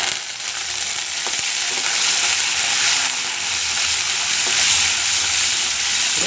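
Chana dal and urad dal fry steadily in hot oil for a mango pickle tempering, giving a loud, continuous crackling sizzle with a few sharp pops, close up and with no talk.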